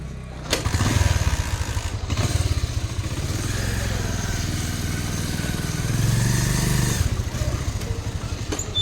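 A motorcycle engine running close by on a road trip toward a hill bazaar, a steady throbbing chug that swells and eases in revs, with brief gaps and faint talk underneath.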